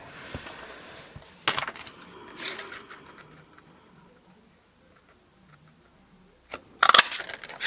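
A small daisy craft paper punch cuts shapes from paper, giving a few sharp, close crunching clicks spaced seconds apart, with quiet handling noise between them.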